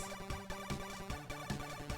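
Busy, arpeggio-heavy chiptune music from a Codemasters NES video game, with fast rippling note patterns over a pulsing beat, faint and compressed.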